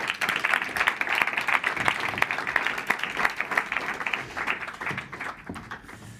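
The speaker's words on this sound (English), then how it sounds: "And big applause for Dr." An audience at a demo day event applauds in a dense, sustained burst of clapping that fades slightly toward the end.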